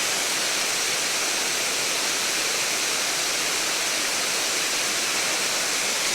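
A waterfall pours steadily in a valley, a dense, continuous broadband rush of falling water, loud and close, with no voices or other sounds over it.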